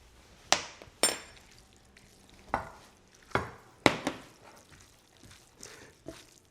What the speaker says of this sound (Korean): 비벼주실 때 이렇게 그릇을 돌리면서 양쪽으로 이렇게 해주시면 골고루 비벼져요